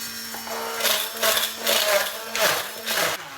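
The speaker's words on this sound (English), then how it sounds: "It's more of an ice chopper than an ice crusher, but it does reduce the cubes to a size" An ice chopper breaks up ice cubes for use with a hand blender, sounding as a series of loud rhythmic grinding, crunching bursts over a steady motor hum.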